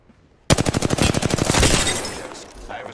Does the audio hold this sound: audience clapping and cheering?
no